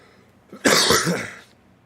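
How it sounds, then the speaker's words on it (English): A single close, harsh cough with some throat clearing, lasting about a second and heard alone against a quiet background. "I don't know why I've been coughing a lot lately, too."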